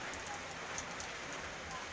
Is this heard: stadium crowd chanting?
no